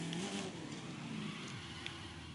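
A car engine in The Crew 2 pulls hard through a high-speed run, a loud, sustained revving drone with a rising, wavering pitch, close and steady throughout with no voices.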